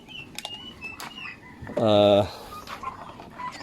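Newly hatched turkey poults in a small batch of seven, faint peeping chirps followed by one loud close clucking call from an adult bird, with quiet rustling in between.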